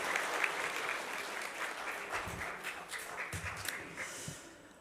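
Warm applause from a church congregation at a Sunday Christmas service welcoming returning visitors from Argentina, a full round of clapping that holds steady and then tapers off at the end.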